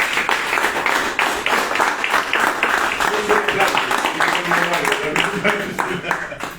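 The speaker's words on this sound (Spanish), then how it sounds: "vamos a darle un fuerte aplauso a Marcelo" Audience at an inauguration ceremony gives a strong round of applause, loud and close, with dense clapping throughout and some voices mixed in beneath it.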